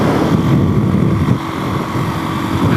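A motorcycle engine cruising steadily near 60 mph at comfortable revs, a loud continuous drone mixed with heavy wind rush, close and alone without talk.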